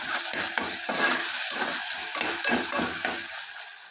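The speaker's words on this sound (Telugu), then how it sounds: "ఈ టమాటా సాఫ్ట్ అయ్యేంత వరకు మనము ఉడికించుకోవాలి" Chopped tomato pieces cook in a pan for mutton curry, with a soft steady sizzle broken by rhythmic stirring scrapes repeating roughly every half second.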